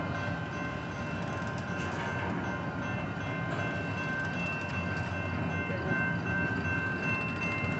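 A long BNSF empty intermodal train rolls past, a steady, dense rumble and rattle of cars on the rails with faint ringing tones, continuous and fairly close, no talk.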